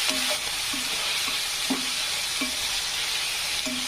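Onion fries in a pan for egg bhurji, giving a continuous loud sizzle with a spoon scraping and stirring at a fairly regular beat, and no talking.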